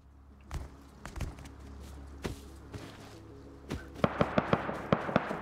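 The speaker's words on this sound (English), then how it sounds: "God, the gunshots, bro." Gunfire in the survival video game Rust, scattered single shots at first, then a quick rapid string of sharp cracks near the end, fairly quiet overall with a low background hum.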